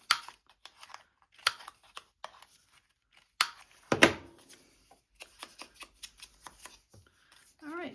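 Scissors snipping the ends off paper scraps during a scrapbook organizing project, several sharp crisp cuts and rustles with quiet paper handling between, close and soft.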